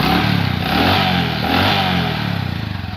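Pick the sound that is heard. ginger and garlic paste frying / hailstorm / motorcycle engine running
motorcycle engine running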